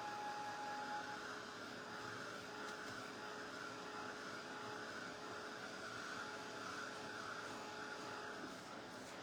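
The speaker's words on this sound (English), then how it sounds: "And this is a heat gun." A heat gun blows hot air onto a painted hat, giving a steady, faint whirring drone with a constant tonal hum that continues unbroken throughout.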